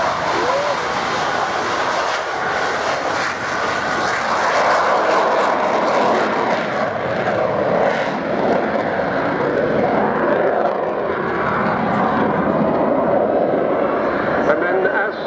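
An Avro Vulcan jet bomber roars steadily on its downwind leg at an air show, a loud continuous engine rumble that fills the whole stretch, with a commentator's voice running beneath it.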